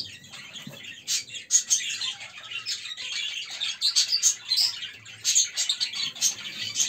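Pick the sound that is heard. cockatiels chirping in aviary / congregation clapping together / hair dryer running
cockatiels chirping in aviary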